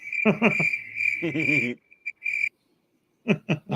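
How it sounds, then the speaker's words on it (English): Crickets chirp in a crisp pulsing trill as a comic silence sound effect after a joke, clear and fairly loud, breaking off briefly before resuming. "Crickets."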